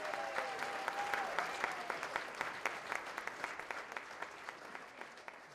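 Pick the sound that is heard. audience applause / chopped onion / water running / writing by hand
audience applause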